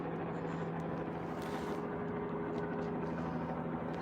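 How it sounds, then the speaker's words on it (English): Low continuous drone of a police helicopter flying overhead at a shooting scene in Salt Lake City, a steady distant engine hum with faint passing noises and no one talking. "Helicopter overhead,"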